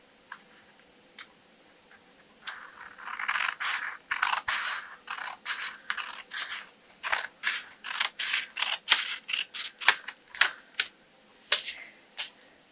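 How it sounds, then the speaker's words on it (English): Scissors snip through origami paper for a butterfly in a quiet room, a few isolated clicks followed by a long run of steady, close, crisp cuts with no talking. "we're going to cut right where the paper meets"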